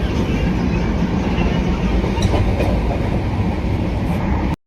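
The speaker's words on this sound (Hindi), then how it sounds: "Sleeper class Banaras Okha express." Inside a sleeper class coach of the Banaras Okha Express while it runs, a loud, steady rumble of wheels and carriage with faint clatter throughout, no speech, cutting off abruptly at the end.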